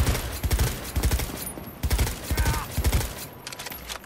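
Gunfire in the Cyberpunk 2077 video game, a run of sharp, rapid shots in bursts through most of the clip, fairly loud and close, with game sounds layered underneath.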